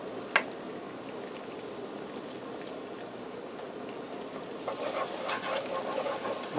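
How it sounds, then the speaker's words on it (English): Butter and Italian seasoning sauce simmering gently in a pan, a soft steady bubbling hiss with a brief clink near the start and slightly livelier bubbling toward the end. "I'm going to allow this to simmer here just for a few minutes while my pasta is cooking"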